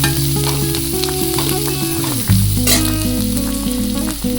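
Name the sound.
onions roasting and sizzling in a pan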